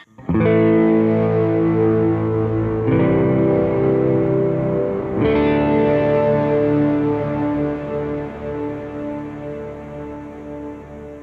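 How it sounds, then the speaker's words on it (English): Distorted electric guitar run through a Kemper Profiler with a crystal delay effect, sustained chords ringing loud with shimmering repeats and a dark, melancholy tail, restruck twice and slowly decaying. "And combined, now I turn the crystal delay on."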